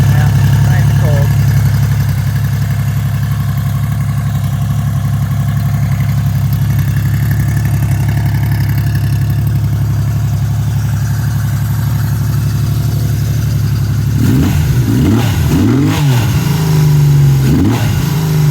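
A cold-started 1980 Yamaha XS 850G motorcycle engine runs with a steady, loud idle, then gets revved in several sharp blips near the end.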